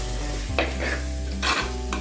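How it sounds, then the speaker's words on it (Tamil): Tomatoes and onions sauté for restaurant-style chana masala while a spoon stirs them through the pan, a steady close sizzle broken by a few louder scraping strokes. "இப்போ இதையும் சேர்த்து நல்லா வதக்கிக்கலாம்."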